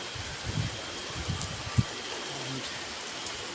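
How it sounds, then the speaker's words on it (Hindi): Steady rain falling at Batu Caves temple in Malaysia, a continuous hiss of drops on surfaces with a few nearer splashes and soft thumps. "आप देख सकते हैं ऊपर तक बारिश कैसे हो रही है।"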